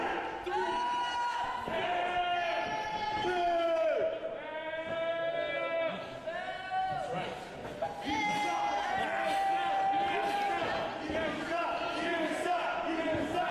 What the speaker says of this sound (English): You suck chants starting from the crowd here.